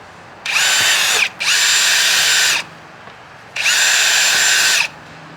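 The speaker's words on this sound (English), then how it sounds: "I am also going to add some holes to the bottom, just using my drill." Power drill boring holes into the bottom of a laundry basket, three loud whirring bursts of about a second each with short pauses between, close by and without talk.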